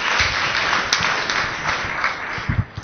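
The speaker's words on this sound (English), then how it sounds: "Give her a round of applause." A church congregation gives a short round of applause, a dense patter of clapping that stays fairly even for a few seconds.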